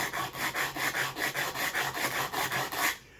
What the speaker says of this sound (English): I'm going to do both of these stones with the 60 grit to begin with.